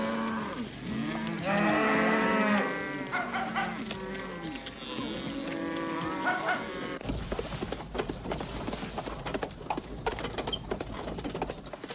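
Cattle moo repeatedly in long, loud, drawn-out calls over the first seven seconds, several overlapping. A busier layer of clattering follows, with hoof-like clopping and movement noise.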